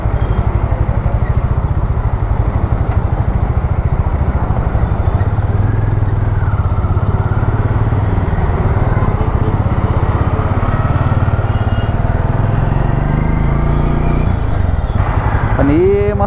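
A new motorcycle on a road test ride hums with a steady, loud engine drone throughout, close by, with wind rush and a brief rising whine near the end.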